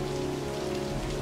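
Steady, dense rainfall in the video game Heavy Rain patters on surfaces, a constant wash of drops with a low hum underneath, no voices.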